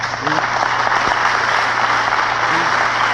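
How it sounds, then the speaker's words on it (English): Audience applause at an Eldridge Cleaver speech, a steady dense wash of many hands clapping that fills the whole stretch with no pause, loud and close. "But you shouldn't clap for that."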